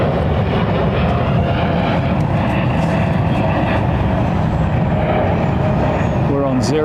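A large aircraft departing London Heathrow on runway 09 right makes a steady, loud, broadband jet roar that runs unbroken the whole time, with faint talk underneath.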